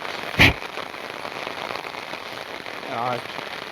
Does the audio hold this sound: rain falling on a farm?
yes